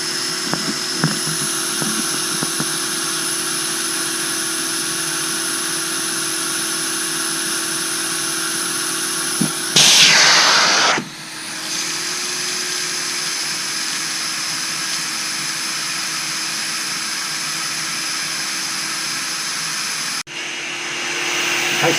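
Carpet extraction machine pulls urine out of the carpet and its backing, a loud continuous vacuum whine and suction roar with a brief surging burst partway through, then a sudden cutoff near the end.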